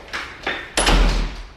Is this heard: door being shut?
yes